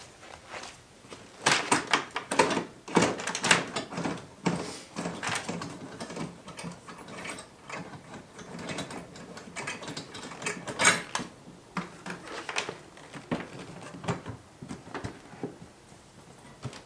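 Clicks, clunks and rattling latches as the two locking mechanisms of a 2018 Harley Road Glide saddlebag are released and the bag is lifted off, a quiet irregular series of close mechanical knocks.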